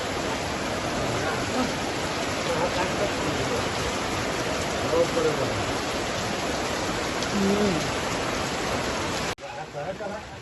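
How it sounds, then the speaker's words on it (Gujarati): Heavy rain pours down steadily in a dense, continuous wash, with faint voices now and then underneath. "બહુ પડો વરસાદ બારમાં"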